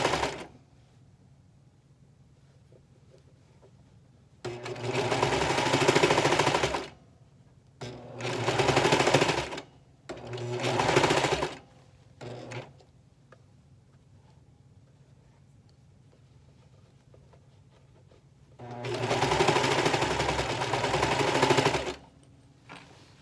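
A sewing machine and a serger stitch over ruffled, gathered fabric for a romper in several loud, close bursts of rapid whirring and chattering, separated by quiet pauses.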